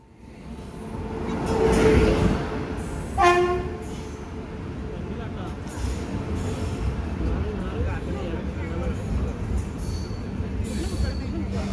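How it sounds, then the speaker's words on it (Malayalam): A Rameswaram–Mangalore Express train pulls into a station platform, its rumbling wheels building to a loud peak, then a short horn blast sounds before a steady rolling roar continues under ambient station noise. "നമുക്ക് പോകാനുള്ള ട്രെയിൻ ഇപ്പോൾ പ്ലാറ്റ്ഫോമിലേക്ക് വന്നുകൊണ്ടിരിക്കുകയാണ്."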